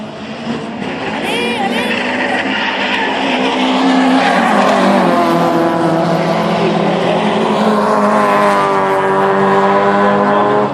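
Race cars, a Honda and Peugeot 306s, battle wheel to wheel on a rally-cross circuit. Loud engines roar and rise in pitch, tires squeal and skid, and an excited commentator talks over the racing throughout.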